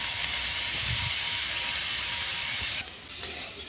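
Washed river snails (gugli) hit hot oil in a pan and set off a loud, steady hiss of sizzling that drops slightly in level near the end.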